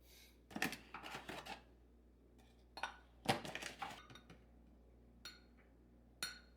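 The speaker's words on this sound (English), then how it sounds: "We're gonna use 3 cup of flour." Flour is measured with cups into a bowl for steamed bun dough: quiet clinks and scraping taps come in short clusters with pauses between, close by and with no speech over them.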